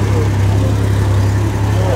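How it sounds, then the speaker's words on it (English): A flat-six engine mounted in the rear of a car idles steadily at a Boxing Day car and steam meeting, a low continuous burble under nearby talk and outdoor crowd noise. "the flat six engine in the back here running, burbling away to itself"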